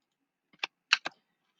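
Three quick keystrokes on a computer keyboard, a single tap followed by two close clicks, crisp and near in an otherwise silent room.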